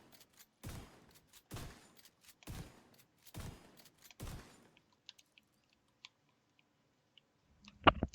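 KSG shotgun fired in The Division 2, five loud, evenly spaced blasts that each cut off sharply, followed by faint clicks and one last burst at the end.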